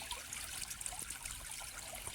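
Soft, steady trickle of water flowing in a farm irrigation channel, continuous and fairly quiet, with a faint hiss over the whole stretch.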